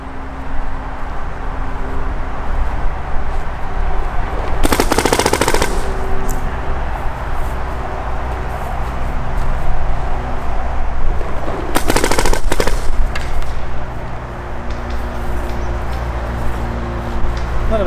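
Paintball guns firing during drills: two bursts of rapid pops stand out over steady background noise, one near the start and one past the middle.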